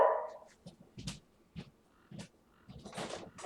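A pet dog barks and yips in short, irregular bursts from another room, sharp and fairly close, with quiet gaps between barks.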